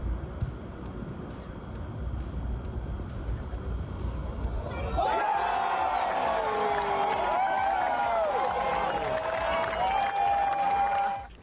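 At a PGA Tour golf tournament in Los Cabos, a crowd bursts into applause and cheering after a final-hole eagle, loud and sustained for several seconds, with a voice speaking over it.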